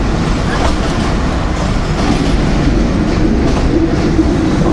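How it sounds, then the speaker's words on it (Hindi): The Millat Express rumbles steadily on the rails on its way into Haranpur Junction, a loud continuous roll of wheels with faint clicks and a squeal of the wheels near the end. "ये जी हरनपुर जंक्शन है, यहाँ पे ट्रेन हमारी स्टॉप करेगी।"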